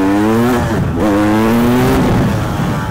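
A KTM 300 EXC two-stroke dirt bike engine revs hard and loud as the bike lifts into a wheelie, its pitch rising, dipping briefly, then climbing again in a sustained, close-up roar.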